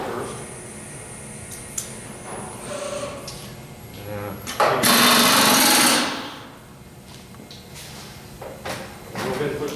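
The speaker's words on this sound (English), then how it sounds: "So I'm going to go ahead and remove this tool." Removing a tool from a CNC mill spindle: a loud, roughly one-second hiss or blast of release follows scattered clicks and clunks from the machine, with someone talking at points.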